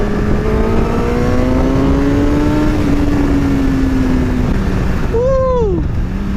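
A Kawasaki ZX10 sport motorcycle accelerating: a steady, loud engine drone rises in pitch and holds for several seconds over constant wind rush, then a brief shift in tone near the end.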